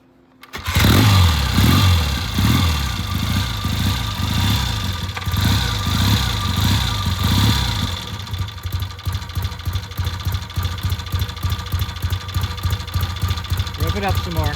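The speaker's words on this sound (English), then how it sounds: "Gonna do a kickstart and see how it goes." A vintage British motorcycle kicks over and fires, its engine thumping loudly in a rough, uneven rhythm before settling into a steadier, lighter idle; voices talk over it.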